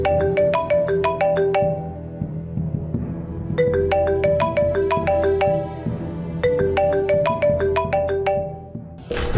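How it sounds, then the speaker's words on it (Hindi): Loud melodic phone ringtone playing repeated bursts of bright tinkling notes in three cycles with brief pauses between, over a low background hum, with no talking. "फोन उठा लो"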